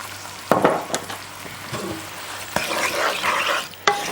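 Skinned, chopped red ripe tomatoes cooking down with onion in a pan, a gentle sizzle broken by several sharp knocks of a spoon against the pan, close and moderately loud.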